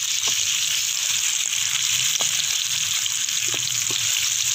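Pumpkin fries in a pan for kaddu halwa, a steady close sizzle broken by occasional soft knocks of stirring.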